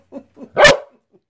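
Two soft low yips followed by a single sharp, loud bark from a nearby puppy, then quiet.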